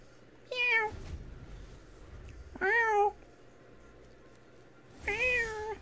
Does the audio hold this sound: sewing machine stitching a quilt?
no